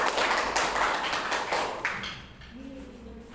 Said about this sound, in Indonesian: Tepuk tangan untuk Wis